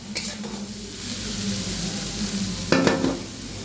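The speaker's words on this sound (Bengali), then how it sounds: "এই যে আলু আলু নাড়ছে।" Potatoes fry in a pan while being stirred, giving a constant close sizzle with a louder scraping stir near the end and no voices.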